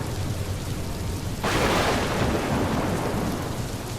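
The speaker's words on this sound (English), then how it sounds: "the rain outside became heavier and thunder roared in the sky" Steady rainfall hisses, then bursts into a much louder, heavier downpour with a deep thunder rumble rolling beneath it, sustained and close, with no voices.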